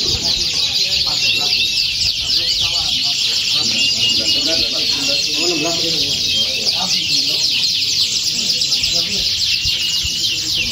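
A dense chorus of canaries sings continuously at a canary song contest, many birds trilling and chirping at once, loud and close, with a murmur of background voices underneath.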